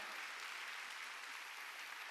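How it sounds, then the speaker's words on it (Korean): Church congregation clapping during a Sunday worship sermon, a steady dense wash of applause from many hands, fairly faint and even throughout with no break. "박수 치라 이게야"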